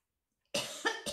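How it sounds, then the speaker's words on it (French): A few sharp coughs from one person, close and fairly loud, in a quick burst of two or three after a moment of silence. "je vais tousser"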